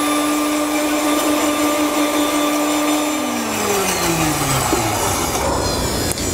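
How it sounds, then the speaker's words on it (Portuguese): A loud, steady motor whine of a blender runs throughout, its pitch sliding downward near the end as the load shifts; no talking. "Eu faço no liquidificador para misturar melhor os ingredientes."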